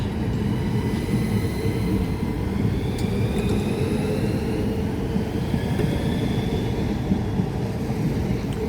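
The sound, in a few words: train passing through Ashford International station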